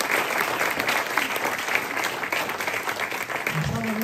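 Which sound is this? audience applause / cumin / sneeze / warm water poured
audience applause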